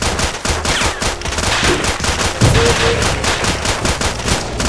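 Rapid, sustained automatic gunfire in a military shooter video game, loud and continuous bursts filling the whole stretch with almost no talk.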